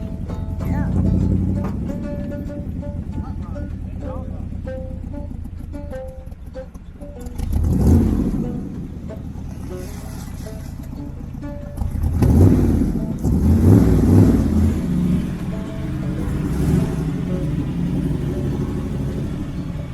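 A 1983 Jeep CJ engine idles with a steady low rumble, then revs in several loud surges around the middle and later part, settling back to idle between bursts.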